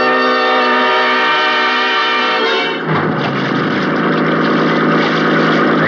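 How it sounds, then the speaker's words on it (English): A 50-horsepower outboard motorboat speeds across a lake at night, its engine a loud, steady, high droning whine that shifts into a rougher churning roar partway through and stays close the whole time. "the 50-horse outboard skimmed along at better than 30 miles an hour"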